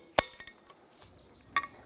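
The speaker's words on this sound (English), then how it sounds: "we're going to tighten the bolt" A wrench works a bolt on an air suspension helper spring assembly for a 2005–2015 Toyota Tacoma, giving two sharp, close metallic clinks about a second and a half apart, with near silence around them.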